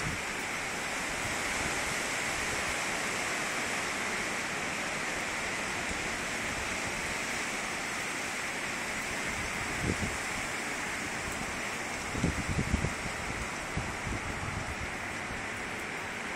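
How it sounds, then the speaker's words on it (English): Strong hurricane wind from Hurricane Sandy roars outside a house in a steady, dense rush of noise that holds at the same level throughout. A few faint knocks come through near the end, and no one speaks. "My house being blocked by all this wind."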